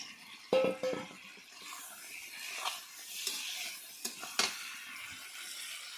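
Fried egg and potato pieces dropped into spices frying in a pan on a chula, giving a soft steady sizzle with a few sharp clinks and scrapes of a spoon against the pot.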